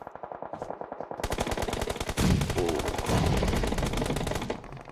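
Rapid automatic gunfire in the PUBG Mobile video game during a pro league match, dense bursts of shots close and loud, overlapping volleys with echo that cut off near the end.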